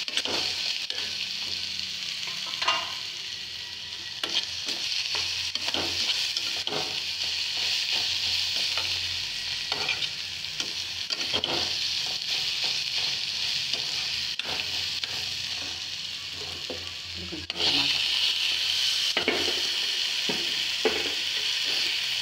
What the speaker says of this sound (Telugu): ఇట్లా కలుపుకుంటూ ఉండాలి 5 మినిట్స్.